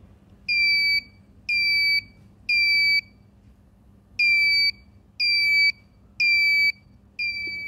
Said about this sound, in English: I just want to like show you the, you know, sensor's noise.